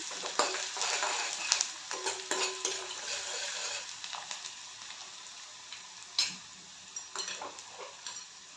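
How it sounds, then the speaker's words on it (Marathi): Onion sautéing in oil in a pan for parwal bhaji, a steady sizzle broken by scattered clinks and scrapes of a spoon stirring against the metal, close and fairly quiet with no voices. "तर कांदा पण छान गोल्डन ब्राऊन होईपर्यंत तेलामध्ये परतून घ्यायचा."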